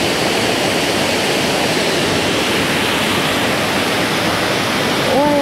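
Todtnau waterfall in southern Germany pounds steadily, a loud, dense roar of falling water that holds without a break from start to finish.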